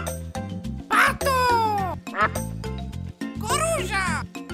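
A voice mimics a duck's quacking in playful bursts over a simple repeating electronic melody, with a child-like voice joining in.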